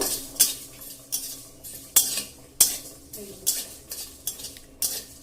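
Spices fry in a kadai with a metal spoon clanking and scraping against it in a steady rhythm, roughly every half second, close up over a soft sizzle with no talk.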